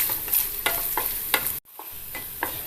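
Coconut bits sizzling in hot oil in a pan for rice payasam, stirred with several crisp spoon scrapes; a brief dropout cuts the sound midway before the frying and stirring carry on, close up and without talk.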